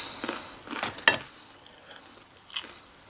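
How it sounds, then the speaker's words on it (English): A bite into crunchy bread, with a few sharp crackly crunches near the start and then quieter chewing, close to the mic and with no voices. "let's have a bite of this"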